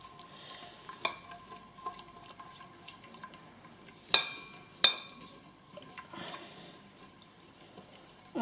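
Neem and oregano hair oil mixture with olive oil being stirred in a container, soft scraping strokes with a couple of sharper knocks of the utensil against the side.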